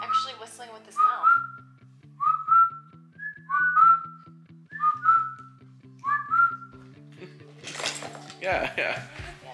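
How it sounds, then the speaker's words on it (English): A man whistles with his mouth, giving a string of short, two-note chirps at an even pace, while dishes and cutlery clink softly in the background and a burst of noise follows at the end. "He's actually whistling with his mouth."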